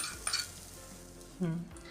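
Brief spoon scrapes and a light clink in a pan of hot oil tempering with turmeric, with faint sizzling underneath, fairly quiet and close.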